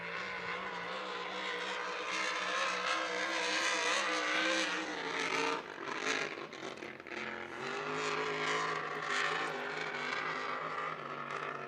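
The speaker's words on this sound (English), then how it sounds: "These are 468 cubic inch Chevrolet engines, alcohol, supercharged." Supercharged, alcohol-fuelled 468 cubic inch Chevrolet engines in racing hydroplanes at a Seafair race, a loud, sustained roar that rises and falls in pitch as the boats run, with no talk.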